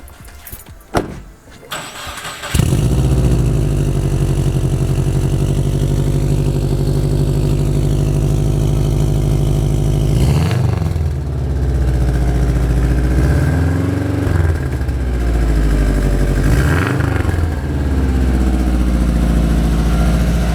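A Subaru WRX STI with a Cobb stage 2 setup and PLM downpipe is cranked and fires up, then settles into a loud, close, steady idle with a few brief revs.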